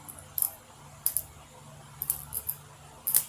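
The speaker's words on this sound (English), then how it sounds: "I'm just going to cut. You hear that? That crack." A tool cuts into a CGC plastic comic slab case, giving sharp, bright cracking snaps in a handful of separate bursts over a quiet background.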